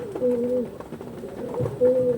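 Pigeons wearing rings coo close by in soft, rounded low calls, two or three phrases rising and falling over a quiet background.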